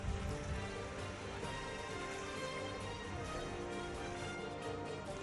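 Steady, dense rain pours down over the city of Surat during a heavy monsoon downpour, a continuous broadband hiss of water with no pauses and no voices.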